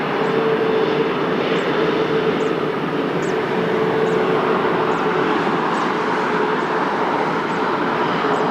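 Jet airliner taking off from runway 20 at Lisbon Airport, a steady loud roaring engine noise that holds evenly from start to finish, with a faint repeating high tick above it.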